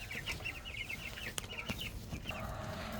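Young meat chickens, about two and a half weeks old, peep and cluck steadily in a brooder box, their chirps close and continuous with a few sharper knocks from movement.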